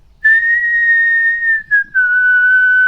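A person whistles a sustained clear tone, briefly breaking and wavering, then dropping slightly lower for a second held note.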